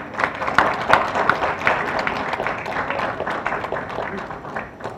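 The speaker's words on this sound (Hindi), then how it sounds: "तो आइए जोरदार तालियों से इन बच्चों का मंच पर स्वागत करें।" An audience claps to welcome children onto the stage at a one-act play event, a dense round of applause that stays steady and fades slightly toward the end.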